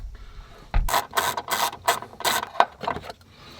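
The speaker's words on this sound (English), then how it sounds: "I'm actually going to take one more bolt out right here." A ratchet wrench backs out a bolt inside a BMW F10 during an aftermarket amplifier and audio install, giving several quick bursts of close, crisp clicking with short pauses between them and no talking.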